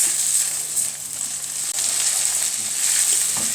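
Chicken liver frying with onion in a pan gives a steady, close, bright sizzle throughout, with no voices.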